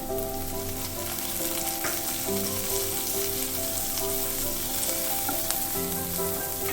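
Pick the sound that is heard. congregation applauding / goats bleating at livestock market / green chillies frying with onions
green chillies frying with onions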